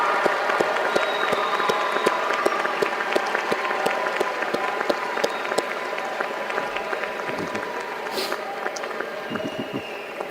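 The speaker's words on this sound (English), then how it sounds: "let's all stand up and give them a round of applause" An audience at a high school graduation ceremony applauds the parents, with dense, sustained clapping from a large crowd filling the hall at steady volume for the full stretch.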